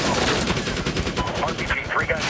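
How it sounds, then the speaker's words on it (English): Sustained AK rifle fire from the Medal of Honor (2010) game, a dense continuous rattle of automatic bursts filling the moment, loud and close. "I'm not worried about the AK fire."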